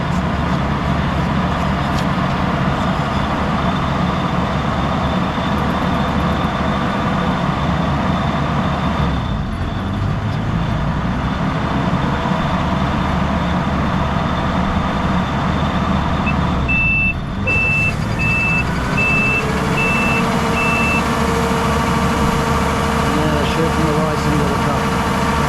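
A truck idles and maneuvers beside a rice harvesting machine in a Japanese paddy, its steady engine rumble filling the scene while a reversing beeper sounds briefly near the end.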